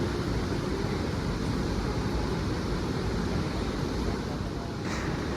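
A dam overflowing like a waterfall during a Vinayaka idol immersion outing, heard as a steady, loud, broadband roar of rushing water that continues without a break.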